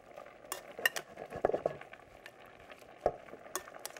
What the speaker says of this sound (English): And you stir this.